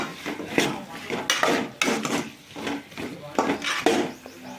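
Potatoes being sautéed in a pan for a crispy potato fry, with loud clattering scrapes of a utensil against metal in irregular bursts about every half second, close up over a soft sizzle.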